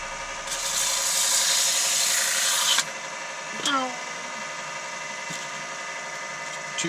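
Steady, loud abrasive hiss of coarse sandpaper held against a hawthorn bowl spinning on a wood lathe, cutting off abruptly near the three-second mark and leaving the lathe's humming whir running on its own.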